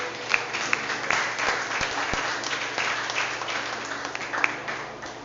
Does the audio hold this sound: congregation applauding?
yes